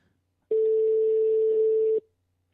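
A single steady electronic telephone tone, loud and held for about one and a half seconds, cuts in as a caller comes through on a French call-in radio show about the paranormal, with silence before and after.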